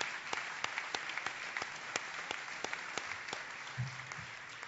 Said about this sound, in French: ça mérite une bonne main d'applaudissement pour les gens qui ont participé à tout ça